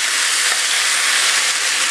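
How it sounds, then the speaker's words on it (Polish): Loud, even hiss of mushrooms and chicken sizzling in a hot pan, a dense unbroken frying sound with no pauses or voices. "smażymy to wszystko jeszcze przez 5 minut"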